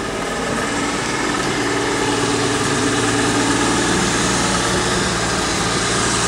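A loud, steady Dodge pickup truck engine idle with a loud transmission, a constant rumbling drone and mechanical whine, continuous throughout with no voices.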